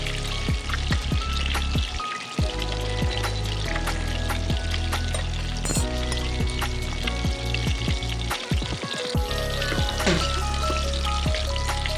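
Chicken pieces deep-frying in hot oil for chilli chicken, a loud continuous sizzle and bubbling with crackling pops and occasional clinks of a utensil, close by, with no talking.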